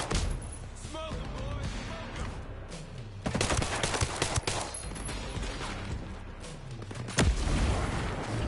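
Rapid Uzi gunfire in a video game, dense bursts of shots and booms rattling almost continuously at close range, with a voice talking over the fighting.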